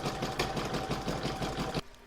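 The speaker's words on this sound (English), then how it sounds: "I'm now going to pop that back into my machine and stitch round number 4" An embroidery sewing machine stitches a satin stitch round on a glasses case, a fast steady mechanical whirring with a rapid needle rhythm, close and continuous before stopping abruptly near the end.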